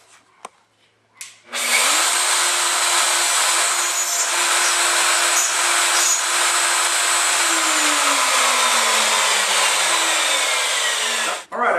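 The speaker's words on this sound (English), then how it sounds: "I've taken my router and I've gone back and forth, and cut out the majority of this material" A wood router cutting out an inlay void along a template, with a steady, loud high-pitched whine that starts after a brief pause and runs continuously for about ten seconds, then cuts off.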